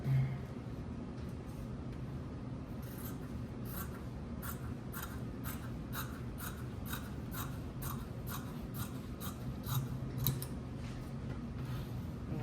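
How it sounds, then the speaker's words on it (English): Scissors cut out fabric for a pocket purse in a quick series of crisp snips at a regular rhythm, faint and close, over a quiet room background. "Let's get that cut out."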